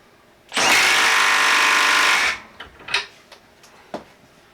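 A Milwaukee M12 3/8-inch stubby impact wrench in mode 3 runs in one loud, steady burst of close to two seconds on a nut and bolt, then a few short clicks and knocks of handling follow.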